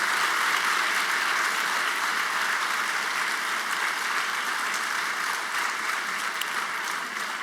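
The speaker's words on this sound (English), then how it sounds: "Could we give them a round of applause?" An audience at a first-generation college student celebration applauds in a dense, even wash of clapping that holds steady and fades slightly toward the end.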